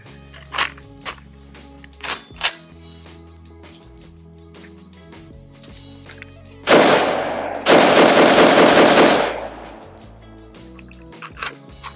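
AR-15 rifle fitted with a BCM bolt fires a rapid string of loud shots in two close bursts outdoors, preceded and followed by a few sharp single clanks and handling noises.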